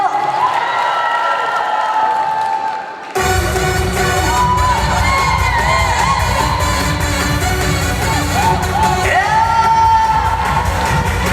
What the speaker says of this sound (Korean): 박수 보내주세요